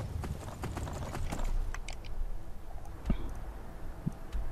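Horse hooves clip-clopping at a steady trot while riding in the video game Skyrim, with rhythmic close hoofbeats over a low ambient background and no talking.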